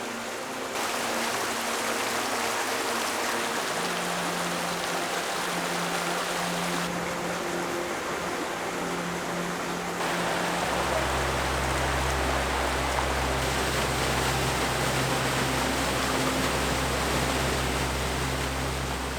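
Waterfall and stream water rush in a steady, loud, unbroken roar near a trout stream, with a deeper low rumble joining partway through and no voices.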